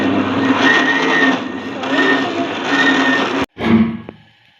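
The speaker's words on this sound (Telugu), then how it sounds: "ఇప్పుడు మిక్సీ పడుతుంది." A mixer grinder whirs loudly and steadily, grinding peanut and tamarind chutney close by, then cuts off abruptly, restarts for a short burst and winds down to silence.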